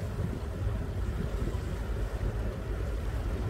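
A boat cruises along a river canal in Germany. Its engine drones steadily with wind and water rushing past, and no voices are heard.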